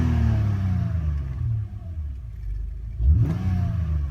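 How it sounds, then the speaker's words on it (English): A Subaru WRX engine with its intake resonator deleted drops from a rev and idles low. It then swells sharply into a loud revving climb with a breathy intake rush, close to the car. "You get that little intake noise."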